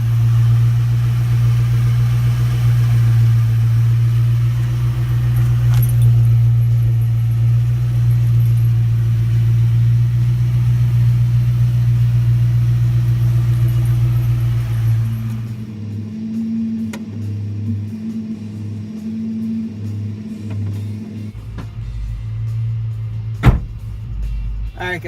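The engine of a Cobra convertible with a new fuel pump runs steadily with a loud, low rumble that holds for about fifteen seconds. The tone then changes to a rougher, uneven idle with a few sharp knocks near the end.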